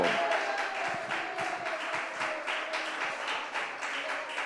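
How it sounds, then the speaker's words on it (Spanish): Applause from a church congregation, loud and continuous with dense clapping that rises and falls in waves across the whole stretch. "denle un aplauso al Señor Jesucristo."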